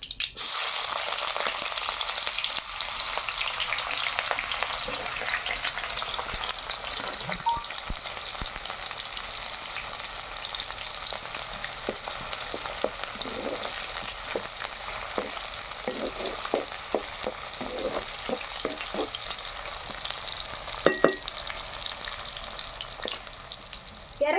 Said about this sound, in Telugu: నూనె కాగింది ముందుగా ఆవాలు వేస్తున్నా జీలకర్ర కొద్దిగా కరిగి పెట్టుకుని ఎరగడ్డ ముక్కలు వేస్తున్నా